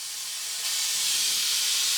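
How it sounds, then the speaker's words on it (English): A steady, loud air hiss from an air-compressor-driven vacuum coolant filler on a 1970 Datsun 240Z radiator fills the whole stretch, rising slightly in intensity partway through and then holding constant, with no voices. "we just hook it up to the air compressor and suck all the air out."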